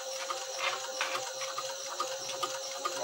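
A sewing machine stitches a traditional saddle bag, giving a faint, continuous mechanical whir with soft rhythmic ticking and clicks throughout, steady and unbroken.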